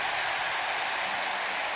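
A broad, steady roar rises from the stadium crowd at a Diamondbacks vs Brewers playoff baseball game. The cheering holds loud and even with no clear breaks.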